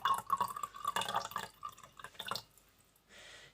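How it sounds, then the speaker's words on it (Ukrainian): A little water is poured into oil at home for a simple physics experiment, a faint, close trickle and splashy dripping for about two seconds before it falls quiet. "І тепер ми до олії трішечки додаємо нашої водички."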